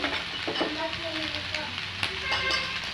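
Ridge gourd with salt, cumin seeds, tamarind and a little turmeric cooks in a pan, giving a steady close sizzle with occasional soft stirring scrapes and no talk.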